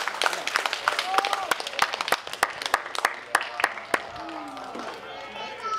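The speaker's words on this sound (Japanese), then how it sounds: "激戦を戦い抜いた両選手に今一度大きな拍手を送ります。" Audience applauding both players after a drawn match, a lively spread of clapping with an announcer talking over it.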